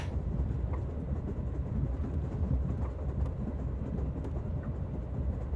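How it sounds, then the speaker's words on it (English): Steady train rumble from the Amaterasu Express in the game Rain Code, a continuous low rolling drone with faint clatter heard from on board, even and unbroken throughout. "Our train utilizes Amaterasu Corporation's state-of-the-art technology for an automated, safe, and comfortable service."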